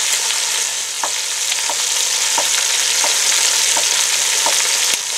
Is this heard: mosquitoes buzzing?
no